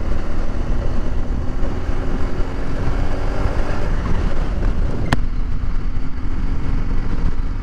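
Car driving on an open road toward Ulaanbaatar, Mongolia, in cold weather around minus ten degrees, with a constant loud rumble of engine and road noise mixed with wind buffeting the microphone, one sharp click midway.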